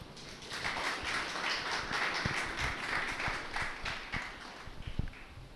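An audience at an Urdu-language religious gathering applauds to welcome a speaker: dense, sustained clapping from many hands, fairly loud and continuous throughout, with a few sharper claps standing out near the end.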